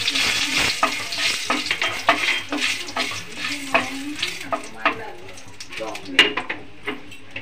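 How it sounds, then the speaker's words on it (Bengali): A tempering of black cumin and dried chilli stirred in hot oil: a sizzling bed cut by repeated scraping and tapping spoon strokes, with a voice speaking over it. "ফোড়নটা একটুখানি নাড়িয়ে নেব।"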